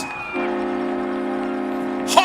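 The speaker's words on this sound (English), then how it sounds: "Honk that horn. Keep it loud." A loud, sustained horn blares at a high school football game between Muskogee and Ponca City, holding one steady tone for nearly two seconds before a brief burst of crowd or PA noise.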